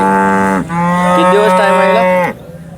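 A cow at a cattle market moos loudly nearby, one long drawn-out call that shifts pitch midway and then stops abruptly.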